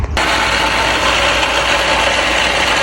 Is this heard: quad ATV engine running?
yes